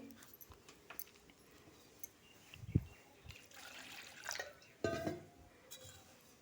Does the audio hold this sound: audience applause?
no